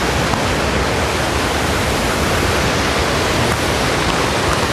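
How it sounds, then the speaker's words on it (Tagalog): A strong river current at Nagcarlan rushes loudly and continuously, a dense broadband roar of flowing water close by with no voices over it. "Ang lakas ng agos dito guys."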